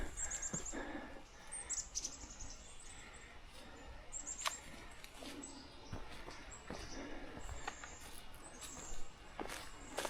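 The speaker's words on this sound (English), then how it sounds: "Hear all those birds?" Birds sing along the Appalachian Trail in Massachusetts, with many high chirps and calls layered over soft woodland ambience; no talking.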